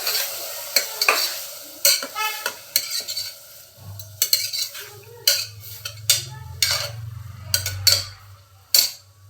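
A spoon repeatedly scrapes and clinks against a pan while stirring a sprouted-grain gravy, with a soft sizzle of frying building underneath from midway on.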